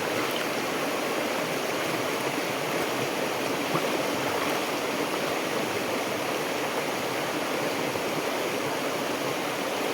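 Clean river water flowing steadily at Sungai Temula in Kutai Barat, a continuous broadband rush and burble close by, with no voices over it.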